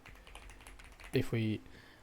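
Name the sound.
typing on a computer keyboard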